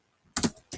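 Short burst of keystrokes on a computer keyboard while entering a disk partition command during pen drive repair, a couple of quick clustered clicks followed by a final single press, close and clear with no talking.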